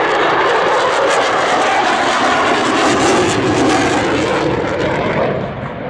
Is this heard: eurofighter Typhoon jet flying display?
yes